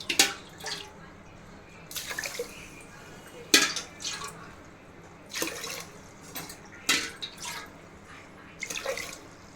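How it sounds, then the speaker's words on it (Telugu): Water poured onto sugar in a thick pot to make syrup for motichoor laddu: several short splashing pours, each separate, with quiet gaps between them at moderate volume. "నాలుగు గ్లాసులు పంచదారకి 4 గ్లాసులు వాటర్ వేసుకోవాలండి."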